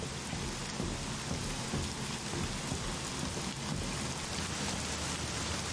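Hard rain pouring in the video game The Medium, a loud, continuous hiss of drops on surfaces with a faint low rumble like distant thunder underneath.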